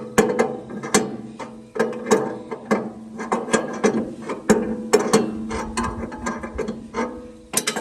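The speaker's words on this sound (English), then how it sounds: "We're turning that adjustment clockwise to move the blade back." Ratcheting clicks as a saw blade tracking adjustment is turned clockwise, in irregular bursts of sharp mechanical ticks, close and loud.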